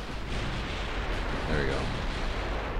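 Naval guns firing in the warship strategy game Ultimate Admiral Dreadnoughts, a steady dense roar of distant cannon booms rolling together with a brief swell midway, heard alone without talk.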